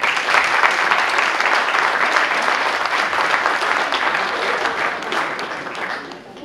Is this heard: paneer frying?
no